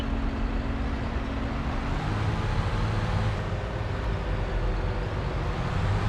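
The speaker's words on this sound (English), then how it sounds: "I love the sound on this tractor." A tractor engine from Farming Simulator 22 drones as a steady, loud, dense rumble throughout, with a constant low hum and no breaks.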